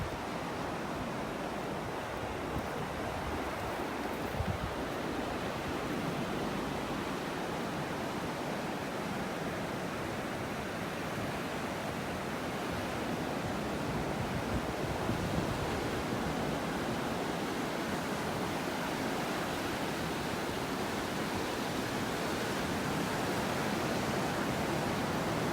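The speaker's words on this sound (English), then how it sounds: "I know a lot of you enjoy listening to the sounds of the waves." Ocean surf on a beach in North Naples, Florida, a continuous broadband wash of breaking waves rolling in and out, steady and fairly close with no voices over it.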